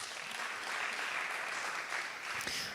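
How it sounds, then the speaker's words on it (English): An audience at an innovation week event gives another round of applause, a steady, moderately distant hiss of many hands clapping that holds evenly for a few seconds. "Let's give them another round of applause."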